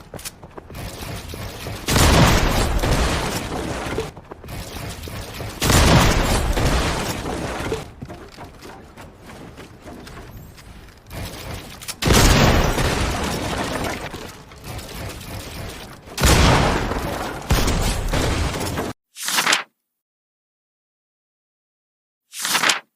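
Bursts of rapid gunfire in Fortnite, several loud clusters of shots separated by quieter stretches of building and breaking clatter, ending with two short isolated bursts after a brief silence.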